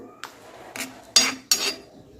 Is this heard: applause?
no